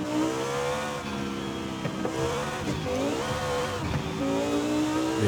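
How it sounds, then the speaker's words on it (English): A Lamborghini Huracán STO engine revs loudly and continuously in Forza Horizon 5, its pitch rising and falling through gear changes, close and dominant throughout with no voices. "That was the Lamborghini STO. Lamborghini Huracan STO."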